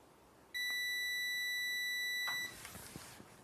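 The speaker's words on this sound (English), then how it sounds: "Here's a quick demo, just doing continuity." A Kewtech KT111 true RMS digital multimeter on continuity test gives a single steady, high-pitched electronic beep lasting about two seconds, clear and close, then cuts off, followed by faint handling clicks.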